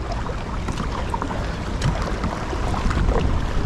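Water churns steadily around a Sportsman PDL 106 fishing kayak on a strong river current, with broadband wash and wind rumble running throughout and no clear separate paddle strokes.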